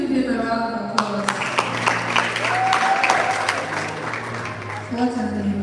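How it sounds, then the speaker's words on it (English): An audience at a Sunday service career talk applauds, a steady wash of crowd clapping with a voice speaking over it. "Please give him a round of applause."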